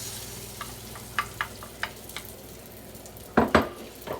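Eggs poured over nearly cooked vegetables in a cast iron skillet give a soft, low sizzle, broken by a few light utensil clinks and a louder double clatter near the end.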